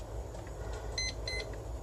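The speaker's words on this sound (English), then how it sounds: "I'm going to set a timer" A kitchen timer gives two short, faint electronic beeps in quick succession while being set, over a steady low hum.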